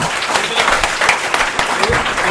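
An audience at a conference session breaks into loud, dense applause, the sharp claps close and sustained throughout, with some speech mixed in.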